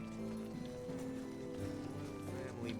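Hooves of a horse in the role-playing video game Star Ocean The Divine Force clop quietly at a steady trot under a sustained musical backdrop, faint and brief.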